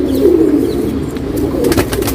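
A male pigeon coos in a low, steady, continuous rumble close by, with a few faint higher chirps from other birds near the end.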